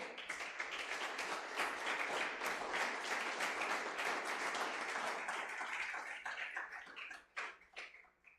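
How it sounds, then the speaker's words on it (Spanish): A church congregation applauds during a service, a sustained wash of many hands clapping that holds steady, then thins and breaks into scattered claps before fading out. "Den un aplauso al Señor."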